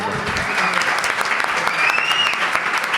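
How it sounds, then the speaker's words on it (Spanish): A crowd claps steadily and enthusiastically for a few seconds, the applause dense and continuous with a faint whistle rising through it. "Un aplauso para él también"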